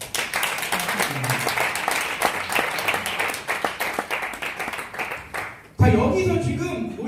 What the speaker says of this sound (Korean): 박수 한번 쳐주셔야 돼요.